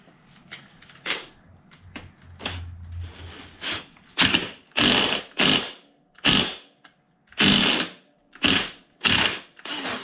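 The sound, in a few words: bolting a part down on Traxxas X-Maxx RC truck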